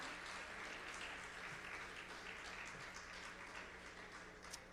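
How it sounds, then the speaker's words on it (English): Applause at the opening ceremony of a Caribbean broadcasting union general assembly, a steady, even wash of clapping from a large audience, faint and distant throughout. "A round of applause, please, for Sonia Gill, Secretary General of the CBU."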